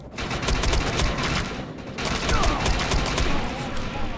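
Sustained automatic gunfire in the online shooter Defiance 2050, loud and close, rattling in steady bursts with a brief pause midway and no talk over it.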